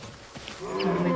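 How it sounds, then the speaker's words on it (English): Elephant herds calling to one another in the African bush, low rumbling calls rising into a sustained trumpeting blare that builds toward the end of the moment. "another herd here, and they're calling to each other"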